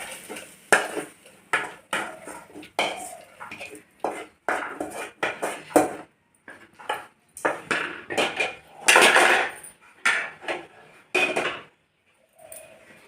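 A sautéed mix of onion, tomato and chilli goes into a pot of greens, heard as a steady series of metal spoon scrapes and clanks against the pot, close and intermittent, with no talk.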